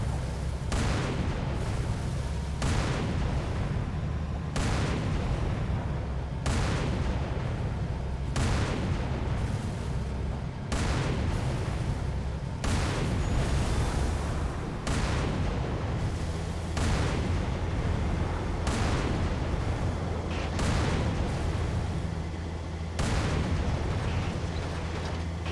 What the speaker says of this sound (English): Wraith is dropping bombs on us.